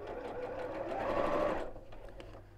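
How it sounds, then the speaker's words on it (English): A sewing machine stitching fabric, a steady fast mechanical whir that builds, runs continuously for over a second and then stops, close and fairly quiet with no talk. "I'm just going to sew"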